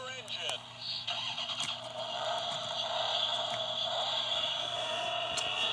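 A toy NASCAR speedway pit stop playset plays an electronic engine-starting sound effect that revs up and then holds a steady car-engine drone, with a voice heard over the start.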